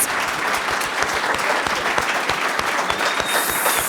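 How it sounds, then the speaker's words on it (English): An audience applauds panelists at the close of a talk about Puget Sound and the Salish Sea, brisk and close with many distinct individual claps in a steady patter for about four seconds. "Let's give our panelists another round of applause."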